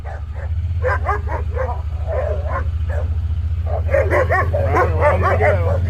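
Several puppies bark and yip in quick, overlapping bursts close by, over a steady low engine rumble.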